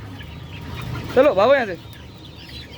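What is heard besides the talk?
chickens clucking in a cage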